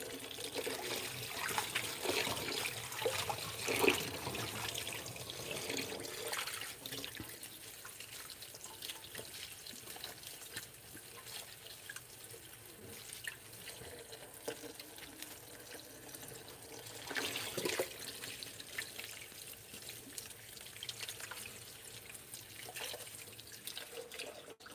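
Tap water runs steadily into a sink while backyard kale is washed, a continuous close hiss and splash with small shifts in flow and no talking.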